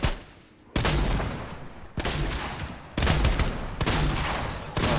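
Bursts of rapid gunfire in the video game Fortnite come in several loud volleys, each cut off abruptly before the next begins, with no speech.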